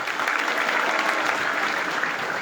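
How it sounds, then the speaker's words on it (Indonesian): Children in an audience clapping their hands together, a dense, even burst of applause lasting a few seconds at steady loudness, close and unbroken. "Tepuk tangan dua."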